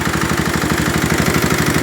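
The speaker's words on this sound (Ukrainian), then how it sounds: "Ось наш генератор москвичовський." Moskvich car generator fitted to a heavy walk-behind tractor, running steadily with a loud, rapid low engine chug and clattering pulse, close up and with no talk.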